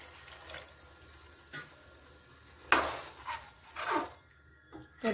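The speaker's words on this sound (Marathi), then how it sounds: "तर इथं टाकून घेऊया पाणी." Water is poured in short bursts into a pan of potato and pea curry, with several quick splashing gushes over a quiet kitchen background.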